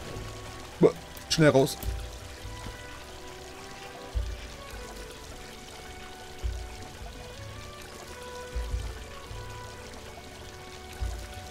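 Water from the video game Unravel makes a short splashing pour near the start and then fades into faint trickling. Someone speaks German over it throughout.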